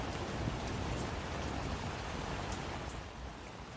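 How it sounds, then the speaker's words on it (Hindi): Steady, dense rain falls during a thunderstorm, a continuous hiss of drops without pause, fairly soft and unbroken throughout. "बिजली चमकने लगती है और वर्षा शुरू हो जाती है।"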